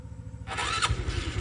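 A Honda Wave 125i motorcycle engine cranks briefly and catches, settling into a close, throbbing low idle right after the start.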